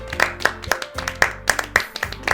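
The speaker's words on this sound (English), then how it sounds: "then is shattered by our clapping" Audience clapping from the visual-novel game Doki Doki Literature Club: a short run of sharp, irregular claps from a few hands, close and crisp, with no voices over it.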